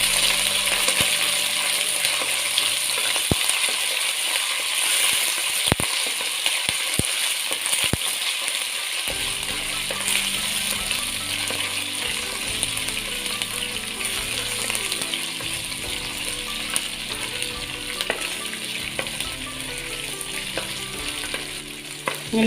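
Crushed ginger and garlic frying in a pan for a fish head curry, a steady loud sizzle with scraping stirs and a few sharp utensil clicks against the pan, no voices.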